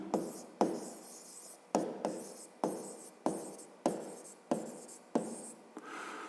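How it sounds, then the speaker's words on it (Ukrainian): Pen writing a math solution on paper, a series of nine close, quiet scratching strokes, each starting sharply then fading, in an irregular rhythm with no talk. "Записуємо тоді зараз розв'язування. Розв'язання. Пишемо."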